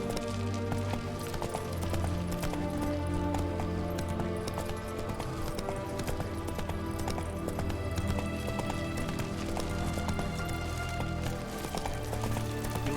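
Roach, a horse in The Witcher 3, gallops with steady rhythmic clip-clop hoofbeats that stay close and continuous, with faint game music and ambience underneath and an occasional snort.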